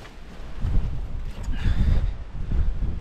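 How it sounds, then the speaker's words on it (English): Gusty wind buffeting the microphone in uneven low rumbling bursts, rising and falling over a few seconds with no voices, at a high wild camping spot in the Yorkshire Dales. "Well, it's windy."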